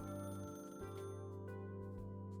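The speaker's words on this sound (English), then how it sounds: "the phone rings" A telephone rings in a video game, a steady electronic tone held clearly over sustained background music for a couple of seconds.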